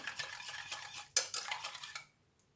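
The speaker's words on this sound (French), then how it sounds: "Voilà, je mélange comme ça." A spoon stirring a sugar, yeast and flour mixture in a bowl, quick clinking scrapes and taps, close, ending abruptly in silence.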